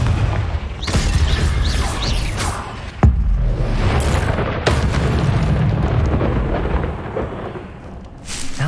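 Loud, dense magical blasts from the Bombarda spell in Hogwarts Legacy, a heavy booming explosion near the start with sharp bursts at about three and five seconds, rumbling on as a continuous roar of combat.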